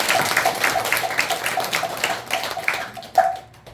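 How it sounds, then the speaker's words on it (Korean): A temple audience at a Buddhist dharma-talk gathering claps, the many hands forming a steady, evenly paced patter of moderate loudness that thins out near the end, with no speech. "일단 그분을 위해서 박수 한번 칠까요?"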